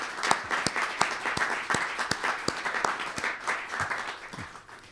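An audience at a Miller Center conference applauds to honor a guest asked to stand: steady, dense clapping from a room full of people for several seconds, close and continuous, with no talking over it.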